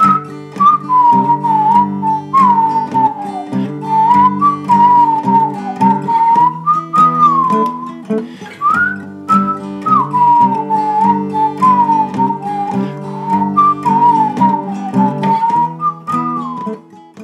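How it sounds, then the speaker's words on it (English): A bright whistled melody floats over a steady guitar backing, with phrases repeating and sliding between notes throughout, from the outro of a song. "Outro is the part where the whistling happens"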